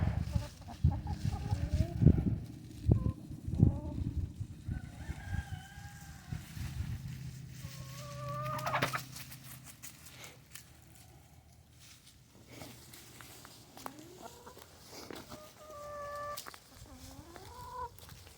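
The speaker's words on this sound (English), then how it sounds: "The chickens are really enjoying being out here." Hens cluck and murmur nearby in scattered bursts while foraging through leaves, with rustling and shuffling underneath, and no people talking.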